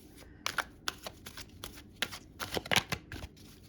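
A deck of tarot cards is shuffled for a ten-card Celtic cross spread, giving a run of quick, crisp riffling bursts at close range with short pauses between them.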